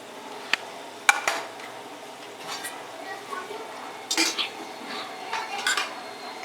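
Cumin paste masala for a fish curry being mixed and sautéed in a pan, with sparse utensil clinks and scrapes over a faint low sizzle, moderately close and without talk.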